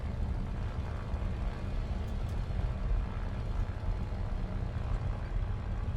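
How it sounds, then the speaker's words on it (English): A J21-A fighter's engine idling with the propeller on manual pitch acting as an air brake in War Thunder, a steady low broadband rumble and rushing wind drone, continuous and even throughout. "Propeller pitch on manual and engine on idle."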